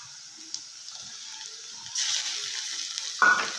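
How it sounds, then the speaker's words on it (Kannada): Chopped chillies and tomatoes sizzle in a hot pan, a steady close frying hiss that swells louder partway through, with a quick stir or clatter near the end and no voices. "ಟೊಮೊಟೊ ಸ್ವಲ್ಪ ಮೆತ್ತಗಾಗೋವರೆಗೆ ಹುರ್ಕೊಳ್ಳೋಣ."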